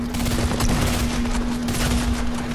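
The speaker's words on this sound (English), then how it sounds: "They shooting me while I'm trying to eat" Rapid video game gunfire aimed at the player, a dense continuous burst of shots lasting the whole moment, loud and close, with a steady tone running underneath.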